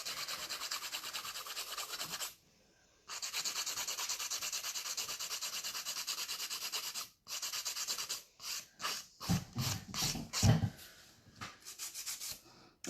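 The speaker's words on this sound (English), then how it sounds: "I'm using a 100 grit file because that's what it takes really to do an extreme shape." Coarse 100 grit file rasping against an acrylic nail while sculpting an extreme icicle shape, steady continuous strokes up close that break off briefly, then turn into short choppy bursts toward the end; no talking.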